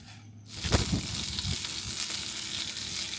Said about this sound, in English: try and fry up that skin a little bit, get a bit of crispness to it